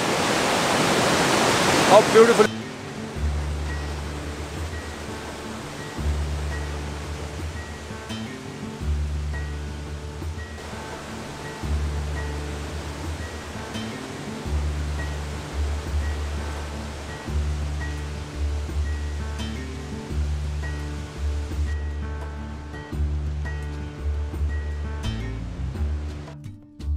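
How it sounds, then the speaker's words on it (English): A river in Gurdum village on a forest hike route rushes steadily as continuous broadband water noise, with music playing beneath it and a brief spoken remark. "this is the uh, second river of Gurdum village"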